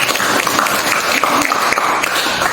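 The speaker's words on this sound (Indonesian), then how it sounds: "Tepuk tangan dulu untuk kalian semua" Students in a classroom clap together for themselves, a loud, dense and continuous burst of applause lasting a few seconds with no talking over it.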